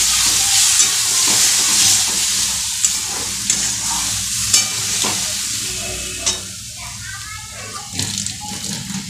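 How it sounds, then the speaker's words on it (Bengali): Green chili, ginger and tomato paste sizzle and fry in a pan for fish curry, a steady crackling hiss with intermittent stirring scrapes and clinks, while someone speaks over it. "দিয়ে এবার ভালোভাবে কষিয়ে নেব।"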